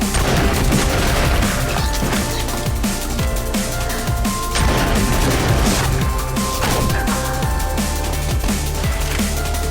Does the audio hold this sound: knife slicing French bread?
no